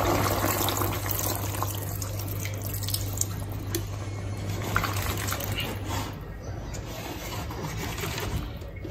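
Water pours steadily onto meat in a cooking pot while Nigerian efo riro soup is being made, a continuous close splashing and trickling stream lasting several seconds.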